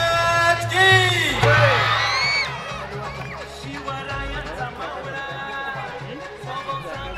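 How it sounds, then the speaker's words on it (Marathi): A crowd at a public stage event claps, cheers, and whoops loudly for Rambhau, with shrill rising whistles and shouts over dense chatter, then settles into a softer, continuing crowd murmur. "जोरदार टाळ्या रामभाऊसाठी"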